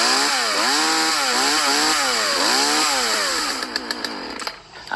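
Chainsaw engine running on half choke, loud and close, its pitch rising and falling in a wavering, uneven revving before cutting out near the end, with no voices.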